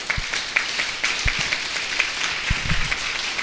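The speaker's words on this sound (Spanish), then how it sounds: "déle un fuerte aplauso al Señor" A church congregation claps for the Lord during a Spanish-language sermon, a short stretch of steady applause from a gathered crowd with no speech over it.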